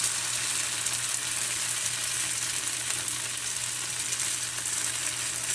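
Small fasting dhirde pancakes frying in a pan with very little oil, giving a close, continuous, even sizzle with no talking.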